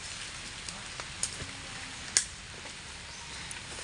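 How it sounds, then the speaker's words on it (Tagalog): Steady rain patters outdoors as a soft continuous hiss, with a few sharper drips and taps standing out now and then. No voices are heard. "Walang tigil ang ulan."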